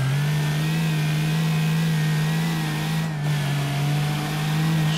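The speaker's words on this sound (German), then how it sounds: "Schön im Drehzahlbremser." Engine of a Nissan Silvia S14 in City Car Driving, held on the rev limiter with a loud, steady high-revving drone and a brief dip near the end, alone with no talk.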